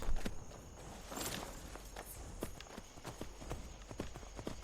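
Steady clip-clop of horse hooves walking at an even pace in the game Skyrim, fairly close, over a low background hum.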